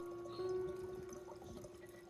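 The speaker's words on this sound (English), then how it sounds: "pour it directly into the glass jar with the GR ginger solution" Water pours in a steady stream into a glass jar holding a ginger solution, a continuous liquid trickle with a faint ringing tone.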